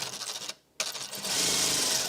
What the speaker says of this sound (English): And you're just edge stitching again all the way around, just making your mask that little bit stronger.